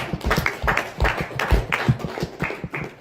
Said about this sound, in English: Clap for yourself, everybody